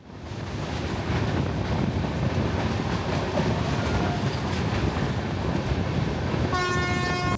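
A passenger train runs near Chennai, making a steady, loud rolling rumble of wheels on track that continues without a break, with a tonal horn-like sound entering near the end.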